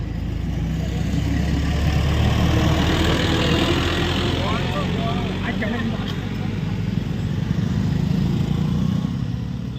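A low, steady diesel tractor engine rumble idles close by throughout, with voices talking faintly underneath.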